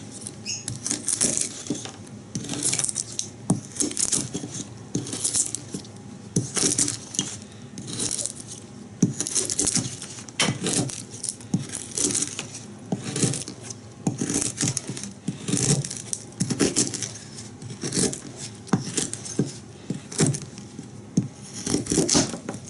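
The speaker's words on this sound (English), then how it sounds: "let's cut this soft pine." Bushcraft knife with a flat scandi grind cutting into soft pine, giving a run of dry scraping and shaving strokes with irregular crackly bursts, close and fairly loud, with no talking.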